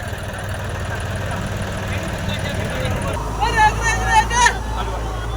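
A steady motorcycle engine idles close by with a low rumble, joined near the end by a few short high-pitched whines over faint background chatter.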